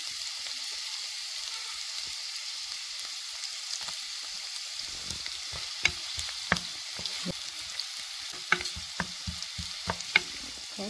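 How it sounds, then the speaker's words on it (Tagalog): Onion and garlic sauté in a hot frying pan for pork menudo, a steady sizzle joined partway through by a burst of crackling and scraping stir strokes, close and clear. "Igisa na natin ang ating onion. Sunod na natin ang ating bawang."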